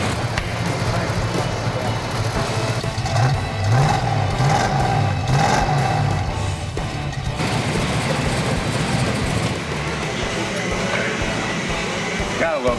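Hemi-powered Dodge Charger police car engine idling and revving after an exhaust gasket repair, loud and close, with a couple of rising revs over a steady rumble while people talk nearby.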